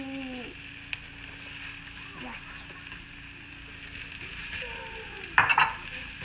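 Brussels sprouts hit a warm pan with a soft sizzle that carries on steadily, with a sharp clatter near the end.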